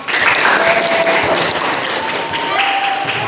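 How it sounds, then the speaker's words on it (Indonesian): Schoolchildren applaud together in a classroom, a dense, loud, sustained patter of many hands close by that runs without a break from start to finish. "Tepuk tangan untuk kalian semua."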